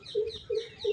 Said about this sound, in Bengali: দেখো বন্ধুরা, এটা কি পাখির আওয়াজ?